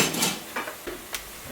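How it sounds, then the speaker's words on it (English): A knife cuts an onion in half for Ghanaian jollof rice, with a few separate clicks and taps of the blade against the board spaced irregularly over a quiet kitchen background. "I tend to cut it in half."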